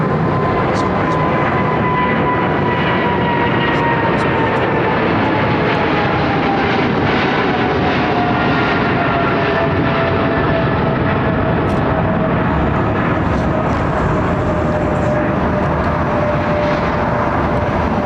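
A jet departing overhead from runway 09R at London Heathrow Airport produces a loud, sustained roar with a slowly falling whine, steady from start to finish as it climbs away.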